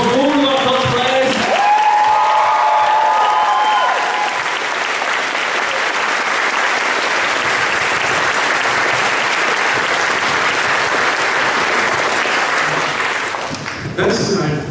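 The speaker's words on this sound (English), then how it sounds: "Let's have one extra round of applause for all of our cosplayers." Sustained loud applause from a convention crowd honouring cosplayers at a closing ceremony, steady clapping across the whole stretch with a voice speaking briefly near the start.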